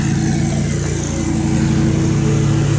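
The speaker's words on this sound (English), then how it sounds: "He's cutting it. He's down there. Yeah, on my John Deere zero turn." A John Deere zero-turn mower cutting grass gives off a steady, loud engine drone that holds an even hum throughout with no pauses.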